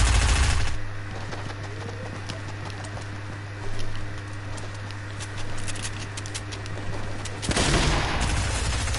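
Video game gunfire, heard as rapid bursts of shots over a steady low hum, loud at the start and end with quieter stretches of shooting in between, with no talk.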